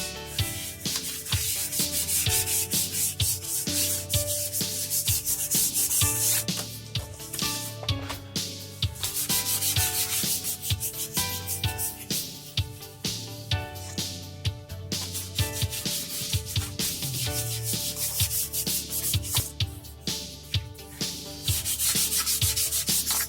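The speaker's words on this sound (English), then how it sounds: "it does need the sandpaper before the colour coat goes on, just to make it nice and smooth" Sandpaper rubbed by hand over a rough guitar top before the colour coat, a steady close scratchy back-and-forth rasp repeating continuously with no talking.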